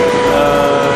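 An IC5 train at Zurich Airport station gives a loud, sustained tonal whine or horn-like hum over a rumbling rail background, steady through the whole second.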